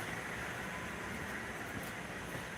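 Model train running on a club's model railroad layout, a faint steady rumbling hum with no distinct clicks, continuous and distant throughout, alone without talk.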